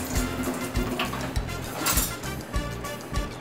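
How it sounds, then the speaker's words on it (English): A spoon scrapes and knocks against a pot while stirring rice pudding made with milk and vanilla, a close series of irregular clinks and scrapes with no talking. "Let's stir it a little bit"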